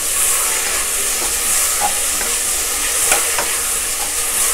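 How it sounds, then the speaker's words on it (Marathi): Tomato, mushroom and peas sautéing in a pan for mushroom matar pulao, giving a steady close sizzle with faint stirring scrapes throughout and no voices. "हा टोमॅटो जरासा मऊ होईपर्यंत आपण व्यवस्थित परतून घेऊया।"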